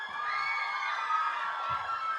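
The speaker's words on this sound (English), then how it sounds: "Keep the applause going." A large audience at a The Maze Runner: The Scorch Trials cast appearance cheers and whoops steadily, a continuous roar of many voices, with no applause standing out.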